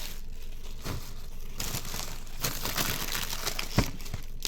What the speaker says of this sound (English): Got a bag of straight cut French fries here